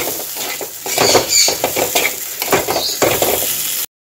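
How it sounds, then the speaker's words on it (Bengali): Potatoes and Gobindobhog rice being sautéed with spices in a pan, with scraping stirring strokes and light crackling sizzle throughout, close and moderately loud. "আলু আর গোবিন্দভোগ চাল মশলার সাথে আরও 3-4 মিনিট ধরে কষে নেব"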